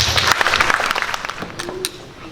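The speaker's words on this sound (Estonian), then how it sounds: "Kutsume ka nemad aplausiga lavale." Audience applause at a spring school concert, a burst of dense clapping that starts strong and gradually thins out, with some voices mixed in near the end.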